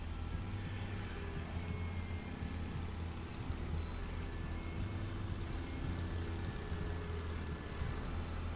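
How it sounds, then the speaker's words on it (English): A car engine drones in the background of The Path video game, a low, steady idling rumble that holds even and unchanging throughout, with no other distinct sounds over it. "Do you hear the sounds of the car in the background?"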